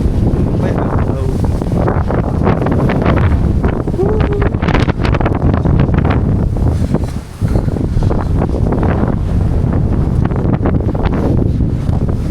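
Strong wind buffets a handheld microphone outdoors on a sunny day in Osaka, Japan, a loud continuous rumble with gusty bursts throughout, and a voice speaking faintly underneath.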